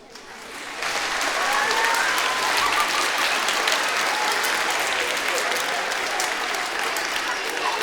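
An audience at an evening open-air performance breaks into loud, sustained clapping after a quiet start, a thick even wash of applause for the show's producer that carries on to the end.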